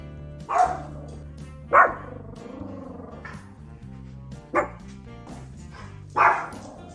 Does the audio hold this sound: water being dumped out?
no